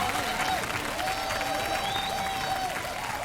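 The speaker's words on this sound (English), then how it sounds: "Let's give a big round of applause." An audience claps and cheers after a DJ battle performance, a steady wash of applause heard close, with a sustained tone running over it.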